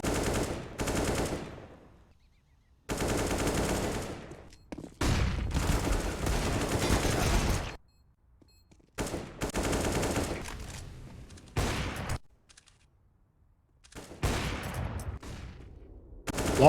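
Counter-Strike gunfire on the Overpass map, heard as bursts of rapid automatic shots and single cracks, loud and close, broken by short silent gaps and with no voices.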